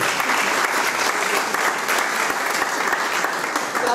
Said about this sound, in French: Est-ce qu'on peut acclamer le Seigneur pour la vie?